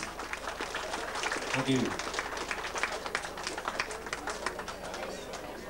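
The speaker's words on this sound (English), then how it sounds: "Give them a nice round of applause, please." An audience at a 1991 dance at the Pier Hotel in Rathmullan claps together, a quiet, steady patter of many hands heard from some distance, with a brief spoken thank-you over it.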